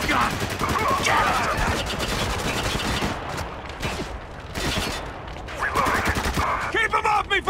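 Heavy gunfire in the video game Spec Ops: The Line, loud rapid bursts of shots cracking close by, continuing in dense volleys with brief lulls, mixed with shouted voices.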